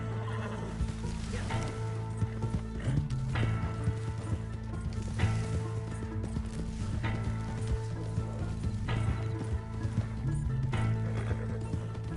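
Horse hooves in the video game Red Dead Online clop in an uneven rhythm over a constant low hum, with occasional louder knocks and a faint sizzling hiss throughout.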